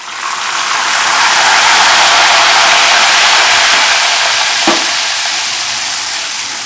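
Jackfruit pieces frying in hot oil hiss with a loud, steady, dense sizzle, and briefly crackle and pop partway through when salt water is poured in, then the frying settles back.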